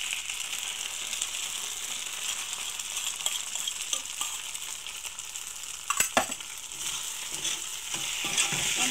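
Eggs sizzle in a pan as a spatula stirs and scrapes them, a steady close frying hiss with a brief cluster of metallic clinks near the end, no voices.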